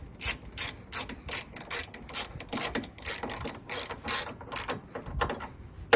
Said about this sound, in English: tighten the bolts